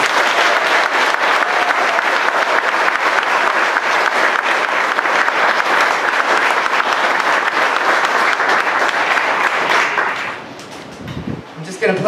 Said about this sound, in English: Let's give our sponsors and heroes a round of applause